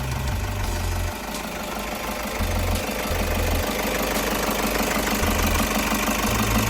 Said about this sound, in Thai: เดี๋ยวเรามาฟังเสียงเครื่องกันค่ะ